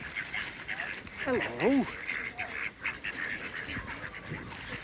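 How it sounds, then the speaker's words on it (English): Tame geese or ducks being fed give a few close honking calls around a brief pause, over a murmur of outdoor background, while a person speaks nearby. "feeding the birds. Look how tame they are."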